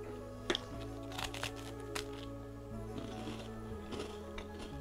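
A Kinder Card wafer snack with a creamy filling is bitten into, giving a few soft, close crunches and crinkles over a quiet background hum, with no talking.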